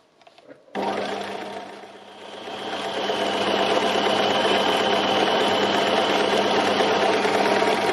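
A sewing machine runs at speed doing free machine embroidery, a close, steady mechanical whirr that starts abruptly and stays loud and even throughout.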